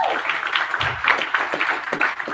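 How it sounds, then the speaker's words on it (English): Audience applause at a civil rights commemoration gathering, a broad steady wash of clapping from a crowd lasting a couple of seconds, dense and continuous with a few sharper claps standing out. "Give him a round of applause."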